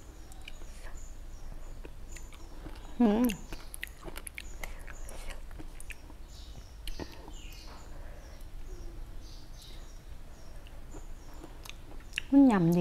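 Crunchy, wet chewing of a bitter mushroom salad, faint and close, with soft irregular bites under a quiet background and two brief vocal sounds.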